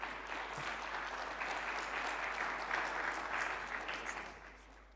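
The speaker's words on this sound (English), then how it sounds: "A big round of applause, ladies and gentlemen, to Mr. Ed Schlesinger." Sustained applause from a keynote session audience, a dense even wash of clapping heard from a distance that tapers off near the end, with no talking.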